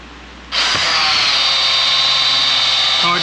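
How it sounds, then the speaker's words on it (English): A power drill spins up hard and runs a steady, loud high whine while driving a Jeep 4.0 oil pump, holding its pitch without bogging from start to end. "is the high volume gonna bog the drill down enough that it slows the whole pump system down"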